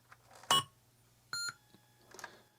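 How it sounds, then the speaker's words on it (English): A TI-99/4A computer's startup: a short electronic beep, a pause, then a second steady beep with a bright, tonal ring from the sound chip, over a faint hum. "listen for the sound chip coming on, making those tones, and then getting initialized by the CPU"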